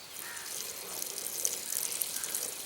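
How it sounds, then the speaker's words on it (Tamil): Water pours and trickles steadily off soaked ragi vermicelli being drained at a farm kitchen, a continuous close splashing hiss of moderate level. "தண்ணியை வடிச்சுக்குங்க."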